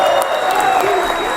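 A crowd at a political speech in the city of Santos, Brazil, applauds and cheers, a loud, steady burst of clapping with voices calling over it.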